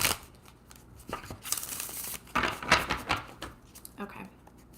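A deck of tarot cards is shuffled by hand close up: quick papery riffles and slaps in uneven bursts, with soft talking now and then.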